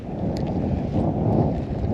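Strong wind gusts buffet the microphone on a windy channel during bass fishing, a loud continuous low rumble with no pauses.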